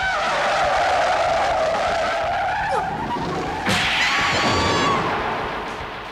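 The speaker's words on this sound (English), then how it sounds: "the hero Urameshi dies after getting hit by a car at the beginning of the series" Car tires squealing in a long, loud skid that rises and slides in pitch, then a sharp impact crack followed by fading scraping, a sound effect with no voices.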